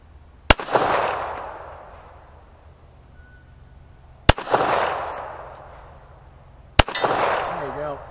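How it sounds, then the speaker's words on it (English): A 9mm pistol fires three single shots downrange, each a sharp loud crack followed by a long rolling echo, spaced several seconds apart. "I'm gonna go ahead and pop off"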